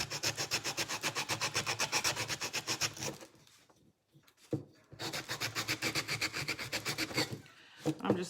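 Steady rhythmic rasping as a file works the rough edges of a machine-cut wooden craft cutout, several seconds of even back-and-forth strokes, a short pause, then the filing resumes at the same close, brisk pace.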